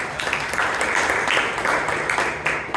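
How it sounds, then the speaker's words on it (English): Room applause at a Toastmasters club meeting, continuous even clapping from a modest group that holds steady throughout with no one speaking. "So give a round of applause."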